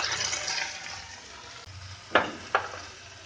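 Ginger garlic paste and chopped tomato fry in a pan with a soft, steady sizzle, broken by two sharp brief splashing bursts near the end.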